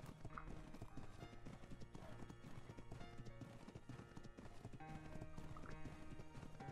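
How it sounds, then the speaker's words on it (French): Horse hooves clip-clop steadily throughout in the video game ARK, with an occasional neigh, all set against a dense, busy game soundscape. "Regarde un peu le cheval!"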